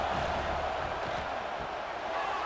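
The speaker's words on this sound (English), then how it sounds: "this crowd is fired up. Listen to this noise here." A football stadium crowd roars in a broad, continuous wash of cheering and noise that stays loud and steady throughout, with no clear single voices standing out.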